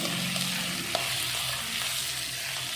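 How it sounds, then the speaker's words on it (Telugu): Thin-sliced ridge gourd pieces frying with onions and tomatoes in a pan, a steady close sizzle with a spoon stirring and scraping through it, no voices. "బీరకాయ ముక్కలు సన్నగా తరుక్కొని దాంట్లో వేసేయాలి. వేసేసి బాగా కలుపుకోవాలి."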